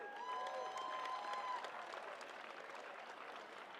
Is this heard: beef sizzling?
no